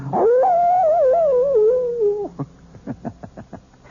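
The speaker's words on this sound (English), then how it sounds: "the wolf is not only a fascinating creature, he also does something wonderful for all lovers of mystery stories. He makes this chilling sound." A wolf gives one long, rising and wavering howl, loud and close, for about two seconds, followed by a string of short yips and whimpers, with no talking.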